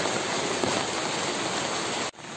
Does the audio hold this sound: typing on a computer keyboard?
no